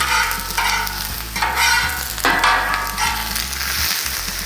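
Onions fry on a Blackstone griddle, a continuous close sizzle with scraping spatula strokes pushing them around at irregular intervals, no voices.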